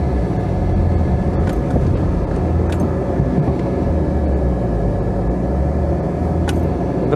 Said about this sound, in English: I'm just going to drive forward and check that the brakes work